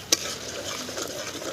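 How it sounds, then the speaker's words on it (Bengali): Ground spices, cumin, chili powder, salt and turmeric, are stirred in a frying pan, giving a soft continuous sizzle and scraping close by, with one sharp clink of the utensil near the start. "এখন সমস্ত কিছু আবারও একবার নেড়ে দিচ্ছি।"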